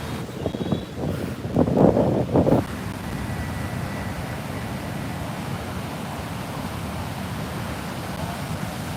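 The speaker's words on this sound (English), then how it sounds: "you can see the wind. See how heavy it is." Strong wind blows at a Phuket beach resort, a steady roaring rush buffeting the microphone, with a louder burst early on before it settles into a constant heavy whoosh.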